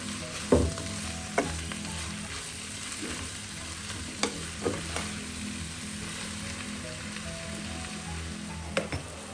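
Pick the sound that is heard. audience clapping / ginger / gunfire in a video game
ginger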